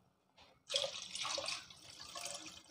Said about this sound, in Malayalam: ഇനി നമുക്ക് മീനിലേക്ക് ആവശ്യമുള്ള വെള്ളം കൂടി നമുക്ക് ഇതിലേക്ക് ഒഴിച്ചു കൊടുക്കാം.